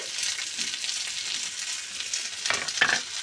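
Masala paste of ginger, garlic, cumin powder, green chilli and a little sugar sizzles steadily in a kadai, with a louder burst of frying and stirring near the end.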